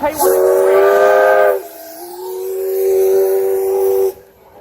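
Steam locomotive K183 at a railway workshops open day sounds a loud, close chime whistle in two long blasts, the first lasting over a second and the second held longer, with hissing steam around them.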